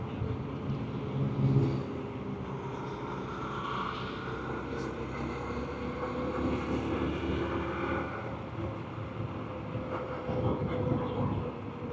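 Honda Trail 125 motorcycle cruising along paved roads, a continuous low engine drone mixed with heavy wind rumble from a rider-mounted action camera, steady throughout with slight swells in loudness.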